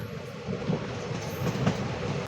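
Passenger train rolling past Madurai railway station through a residential area, a steady rumble of wheels and carriages with soft rhythmic clacks over the rails, close by and continuous.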